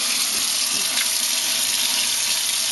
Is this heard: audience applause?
no